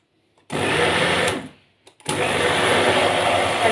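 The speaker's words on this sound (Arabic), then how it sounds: "وهنولع ايه الخلاط بتاعنا" A kitchen blender grinds sesame seeds with salt into raw tahini, a loud whirring roar that starts abruptly, cuts out briefly, then restarts and runs steadily.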